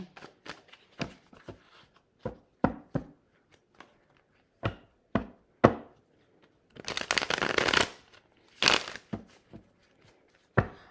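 Tarot cards are shuffled in a series of quick snaps and riffles, with a longer riffling burst in the middle, close and crisp in a quiet room.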